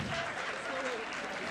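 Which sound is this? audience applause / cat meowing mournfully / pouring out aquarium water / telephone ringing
audience applause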